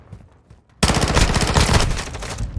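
SMG gunfire in a first-person shooter match, a loud sustained burst of rapid automatic shots that starts abruptly after a quiet moment and runs to the end.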